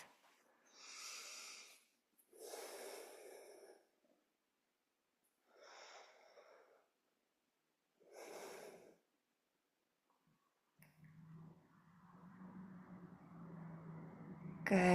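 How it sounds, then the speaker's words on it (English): Slow, full breaths drawn during a calm yoga practice, four soft inhale-exhale swells separated by quiet pauses, followed by a louder, steadier wash of sound near the end. "give yourself some slow, full breaths"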